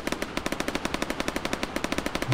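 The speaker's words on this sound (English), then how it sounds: "Why are you shooting the blue man?" Rapid video-game gunfire rattles in a fast, even burst of sharp repeated shots, loud and close, with no talk over it.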